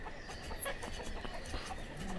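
Chickens in the video game Banished cluck and chatter faintly and intermittently under a soft, busy game ambience, with no talking.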